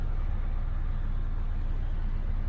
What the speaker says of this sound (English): big truck passing us on the side of the road making a lot of noise